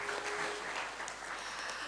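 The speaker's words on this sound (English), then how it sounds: "Please give her a round of applause." Faint, brief applause from the audience at a rural youth agribusiness event, heard as a soft, even patter of clapping from a distance.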